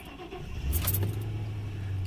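An old car's engine starting with a cranking burst, then settling into a steady low idle hum, close and moderately loud, with no talking.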